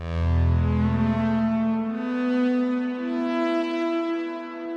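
A sustained synthesizer tone through an Erica Synths Nightverb reverb, with a long, washing tail; deep bass fades after two seconds, leaving bright harmonics ringing on alone.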